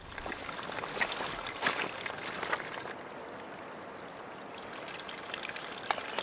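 Water trickles and splashes steadily in a small stream on Mt Hood, fairly quiet, with a continuous bubbling wash and occasional brighter splashes.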